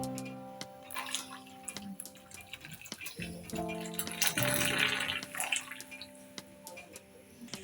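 Thick sugar syrup for shahi tukray is poured from a heavy pot into bowls, giving a steady liquid pouring and splashing sound throughout, with faint kitchen clinks and a tonal background hum.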